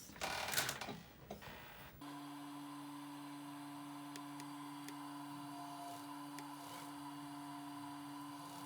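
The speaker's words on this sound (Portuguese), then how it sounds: "a gente vai pra máquina e passa uma costura juntando as partes dos dois lados" A sewing machine stitching corset pieces together for a wedding dress, running with a steady even hum after some brief rustling handling noise at the start.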